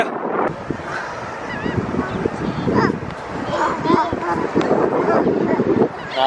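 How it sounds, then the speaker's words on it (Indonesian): A bird honks several times at Galveston Pier Beach, nearby and fairly loud, over wind rumbling on the microphone and surf, while people chat. "Ada burung ya?"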